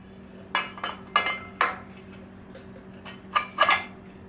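Steel bolts for a 1JZ engine to BMW ZF transmission adapter kit clink together as they are handled, several separate light metallic clinks with short pauses between them, close and fairly quiet.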